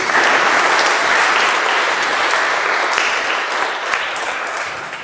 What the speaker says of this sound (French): On l'applaudit aussi.